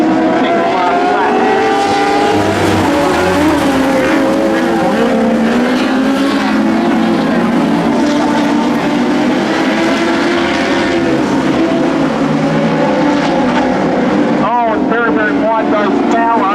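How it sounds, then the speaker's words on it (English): GP Midget race cars lapping Goulburn speedway during a state title race, a loud continuous engine roar with shifting pitch as cars pass, under a track announcer's commentary. "GP Midgets, New South Wales state title, GP Midgets tonight. This is the second last lap."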